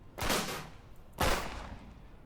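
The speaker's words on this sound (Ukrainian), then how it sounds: "вона просто стріляє одиночними вистрілами" Two single gunshots from a weapon in the survival horror game The Path Into The Abyss, each a sharp loud crack with a short decaying tail, spaced about a second apart with no talk.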